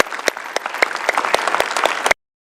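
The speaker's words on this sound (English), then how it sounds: "a well-deserved round of applause" A crowd at a city council meeting claps enthusiastically, dense steady applause for about two seconds before stopping abruptly.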